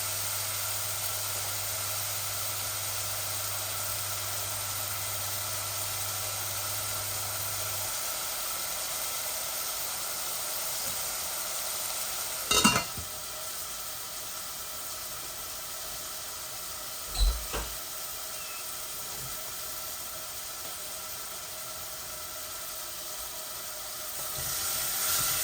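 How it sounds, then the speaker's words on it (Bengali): Chicken with ginger and garlic fries in a pan, giving off a steady, soft sizzling hiss throughout, broken by a couple of brief utensil clicks. "এগুলো একটু ভাজা ভাজা হোক"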